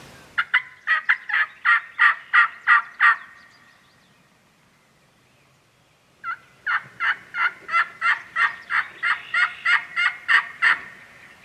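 A wild turkey during a Wisconsin spring hunt gives two loud, close series of rapid, evenly spaced calls, each burst sharp and rhythmic, separated by a few seconds of near silence.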